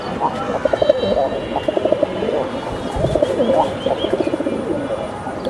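Two silver Jabra Panki pigeons coo in repeated, throaty rolling bursts close by, while people talk over and between the calls.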